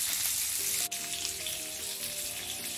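Fish sizzles steadily in a covered pan over a low flame, a continuous soft frying hiss with faint crackles, close and alone with no voices.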